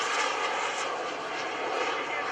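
A fast radio-controlled model airplane of about 53 pounds with roughly 50 pounds of thrust flies at an airshow, a steady loud engine whine filling the air while someone talks.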